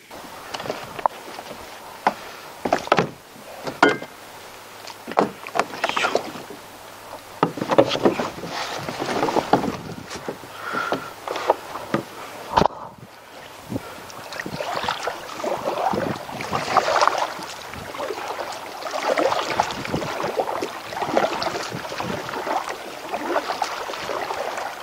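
A small boat heading out across the sea at low tide toward a lighthouse on an offshore rock, with wind buffeting the microphone and choppy splashing and thumping of water against the hull throughout.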